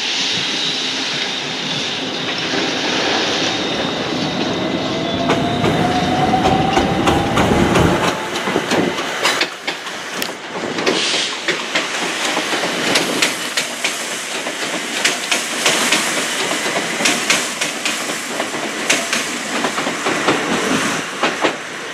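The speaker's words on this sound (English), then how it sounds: "Train's taking power again on the down slow, heading north to Harrow and Willesden" Train on the down slow line at Willesden Junction, heading north toward Harrow, powering up with a loud rising engine roar and rumble that builds and sustains, with a rising whine early on.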